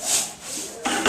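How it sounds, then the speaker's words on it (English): Lime wash is applied to a wall with a tray, giving a soft, close scraping and rubbing swish in two strokes, quiet and alone without talk. "letting the tray work ahead of us, and applying my lime wash"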